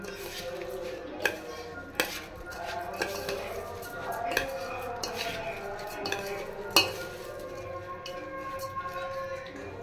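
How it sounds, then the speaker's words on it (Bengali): A spoon mixes rice with ghee in a pot, giving irregular scraping and clinking knocks with a few louder metal taps over a low background of kitchen noise. "হাত দিয়ে মিশাবো না, কারণ ঘিটা হাতে লেগে যাবে, চামচ দিয়ে মিশাবো।"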